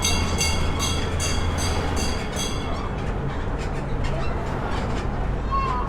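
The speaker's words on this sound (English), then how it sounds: "Traveling here on the world-famous Conch train." The open-air Conch tour train rolls along the streets of Key West, Florida, with a rhythmic clicking at first and then a continuous low rumble of the moving train throughout.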